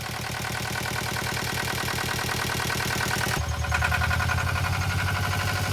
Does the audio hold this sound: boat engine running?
yes